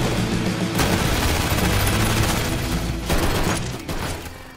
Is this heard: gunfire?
yes